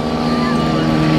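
A twin-engine and a single-engine aircraft fly past together at a Scottish airshow, giving a steady, loud engine drone with a sustained low hum throughout, close and unbroken.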